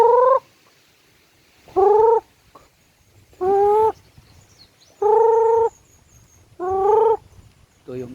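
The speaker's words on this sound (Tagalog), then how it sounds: "mga alaga kong manok" Loud chicken calls repeat in five bursts about every one and a half seconds, with quiet gaps between them and no talking.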